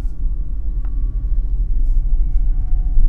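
Video game car on the move, a continuous deep road rumble heard muffled from inside a car trunk, holding steady and swelling slightly toward the end, with a faint tick or two and no talking.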